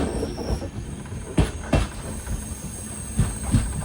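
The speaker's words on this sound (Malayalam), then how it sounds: "ട്രെയിൻ ഇപ്പോൾ കുംട്ട റെയിൽവേ സ്റ്റേഷനിലേക്ക് ഇതാ എത്തുകയാണ്." The Panchaganga Express rolls into Kumta railway station in coastal Karnataka. A steady rumble is punctuated by several sharp wheel clacks as the train moves over the rails.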